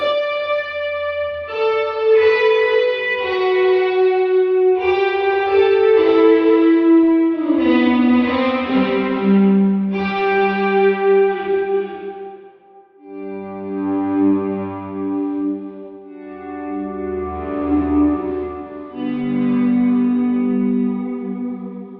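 Clean electric guitar run through a Tone King Imperial amp model in a neural plugin, fully wet with delay, rings out sustained chords and notes whose echoes trail behind, with a brief pause partway through.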